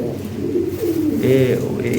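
Bombay and Lahore Siraji fancy pigeons coo in a short, close, low burble while someone talks over them.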